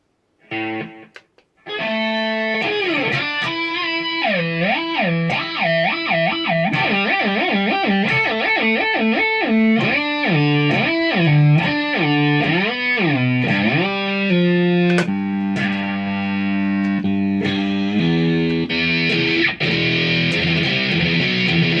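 An electric guitar played with heavy distortion in a live jam, with a loud, sustained, gritty tone running through bending melodic lines and chords, without a break and with no talking.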